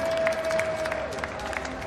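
Junior under-38 Slovakian squad cheering and clapping at an inline hockey match, a faint, distant crowd with scattered applause and shouts under steady arena noise.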